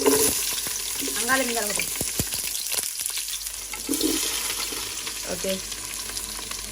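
Onions sizzling and frying in a pan while a spoon stirs them with intermittent scraping, a soft steady crackle beneath home cooking, with people talking quietly in between.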